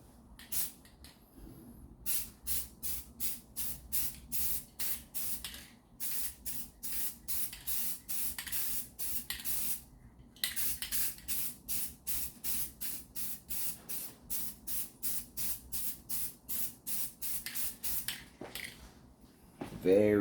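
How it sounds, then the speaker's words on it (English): Metallic aluminum spray paint hissing onto Jeep rims in short, regular bursts of a light coat, close and steady, with someone talking quietly between sprays. "We're going to go ahead and put down a light coat of our color right here."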